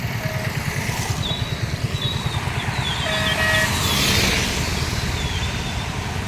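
Cars and motorbikes pass along a road in heavy rain, a loud, steady engine rumble with a wash of rain noise and several short horn toots.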